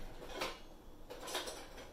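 Spatula stirring sugar and water in a pot on a stovetop, two soft scraping strokes against the pot, quiet and close with no talking.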